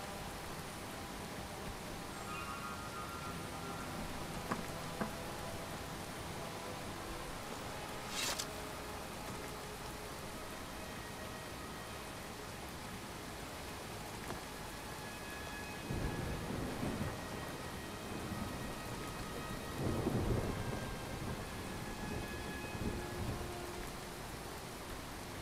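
Steady rain hisses continuously in Relics of Hyrule while deep thunder rolls in several times, swelling louder around the middle and later stretches before fading back into the downpour.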